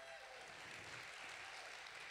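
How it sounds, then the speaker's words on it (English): A church audience applauds its volunteers with a continuous, even spread of clapping that sounds faint and distant throughout the brief moment. "let's give a hand clap to our volunteers today"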